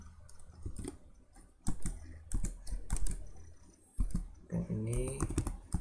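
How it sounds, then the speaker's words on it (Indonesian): Computer keyboard typing in irregular bursts of clicks and key taps, close and fairly loud, with someone speaking over part of it. "ini tinggal kita ketikkan saja"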